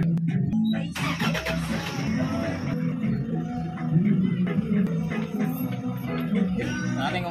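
A Toyota Hiace engine cranks and catches, then settles into a steady close idle that hums on for several seconds, with faint speech in the background.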